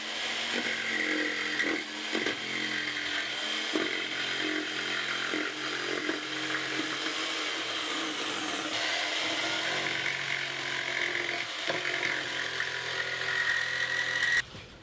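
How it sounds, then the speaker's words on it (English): A jigsaw cuts a basket cutout in a wooden piece clamped to a table, a steady loud buzzing whine that runs almost unbroken for the whole stretch, with small dips as the blade works through the curve. "On this one, I'm going to use the jigsaw"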